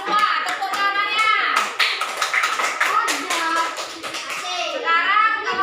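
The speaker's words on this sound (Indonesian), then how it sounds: "Tepuk tangannya." Schoolchildren in a classroom clap for a group, quick rhythmic claps mixed with lively children's voices and chatter throughout.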